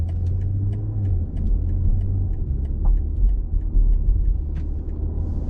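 A BMW M440i xDrive Gran Coupe cruising in comfort mode, a low steady engine and road rumble from inside the cabin with a faint ticking, smooth and even with no sharp revving.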